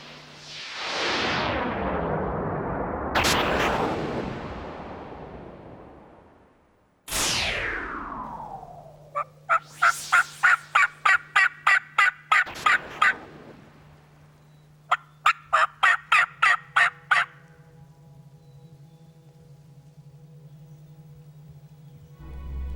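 Wild turkey longbeard gobblers gobble in a field. Several loud, rattling gobbles ring out and fade, followed by bursts of rapid, evenly spaced clucking or yelping notes against a low steady hum.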